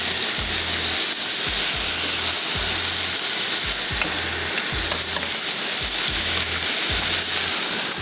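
Chicken sajji masala with salt and turmeric sizzles loudly in a pan, with a steady frying hiss and regular scraping stir strokes about every second.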